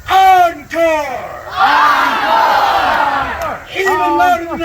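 A fire juggling show's audience loudly and enthusiastically screams for an encore, a sustained roaring crowd yell close by, bracketed by a voice talking at the start and end.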